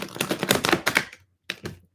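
Stiff tarot cards are shuffled by hand in quick crisp riffling bursts, a dense flurry of close clicks that stops, then a shorter second burst after a brief silence.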